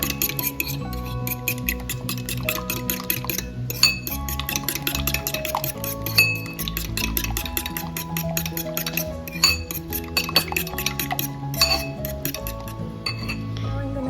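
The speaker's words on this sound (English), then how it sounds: "I have 2 eggs, and I'm going to beat it" A fork beats two eggs in a bowl for an ampalaya dish, giving quick, steady clinks against the bowl over continuous tonal background music.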